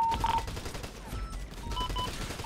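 Gunfire inside a bank in GTA, a rapid burst of shots, muffled and somewhat distant, with a brief alarm-like tone blipping over the clatter.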